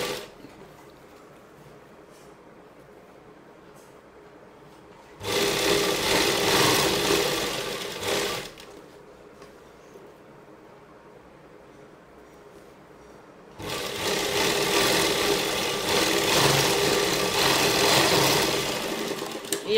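A sewing machine runs in two loud, steady bursts while top-stitching a folded-in seam on a comfortable pregnancy dress, with quiet pauses between runs.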